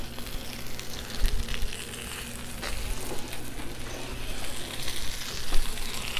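A pork tenderloin fries on a flat-top Blackstone griddle with a constant moderate sizzle and crackle, occasional scraping or stirring noises, and no voices.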